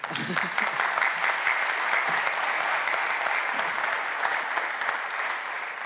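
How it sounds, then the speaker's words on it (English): A conference audience at an energy-finance talk claps warmly for the speaker who has just finished. The applause is full and even for the whole stretch, with a few faint voices mixed in. "On peut l'applaudir quand même."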